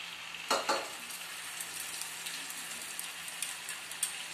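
Spice paste sizzling and frying in a pan for a vegetarian potato curry, with a small splash of water added; a burst of louder spattering near the start, then a steady soft sizzle with faint crackles.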